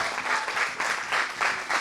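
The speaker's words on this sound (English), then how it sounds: "can we have a round of applause for the entire team sitting right here?" An audience claps for a film team seated in a theatre at an event honouring Rohit Shetty, a short burst of steady mid-loud applause with slight swells and no voices over it.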